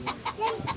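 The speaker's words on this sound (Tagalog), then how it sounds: "Yan, oh, nagamputak bagay ang manok na yan." A hen clucks and cackles in a rural yard in the Bicol countryside, four short squawking calls in a quick, uneven rhythm, close and fairly clear with no talk over them.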